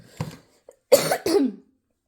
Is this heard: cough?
yes